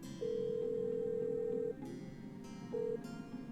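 A telephone rings inside a video game, a steady electronic tone held for about a second and a half, then a short repeat after a pause, over a faint background hum.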